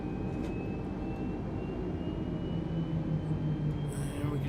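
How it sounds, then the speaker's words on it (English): Engines of an Airbus A320neo on a delivery flight, heard from the cockpit during shutdown. A steady, moderately loud mechanical drone and rumble hold throughout, shifting slightly near the end. "Engines will come off."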